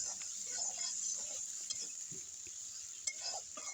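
Chopped tomato fries and is stirred in a pan for soybean dopeyaja, with a soft steady sizzle and scattered scraping and tapping of the spatula, fairly quiet and close.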